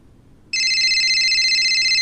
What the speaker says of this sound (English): The ringtone soon comes to a stop